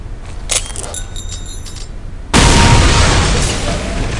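A high explosive grenade goes off in Counter-Strike: Condition Zero. After a quiet stretch with faint clinks, a single loud, sudden blast hits and its rumble fades slowly.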